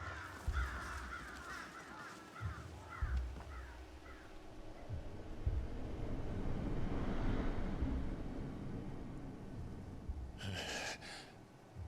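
A few crow caws ring out early in a Final Fantasy XVI scene, then give way to breathy gasps and a swelling low ambient wash, with no talk.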